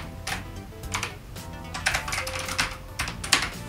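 Keys clack in quick irregular bursts on a MASSIMO KB-748 waterproof IP68 mechanical keyboard that has just had water spilled on it. The keystrokes are close and crisp, with short pauses between flurries.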